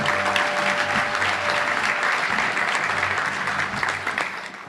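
Steady, full applause from a luncheon crowd at a touchdown club, honoring high school football student athletes in Arkansas, continuous clapping that tapers slightly toward the end.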